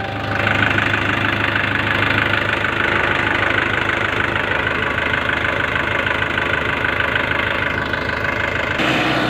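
A Mahindra 575 tractor engine runs steadily at idle with a knocking diesel chug, loud and close, unbroken for the whole stretch and cutting slightly near the end, with no voices.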